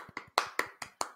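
About six separate handclaps ring out in a slow, uneven rhythm, crisp and fairly faint, like a couple of people clapping on a podcast set rather than a crowd.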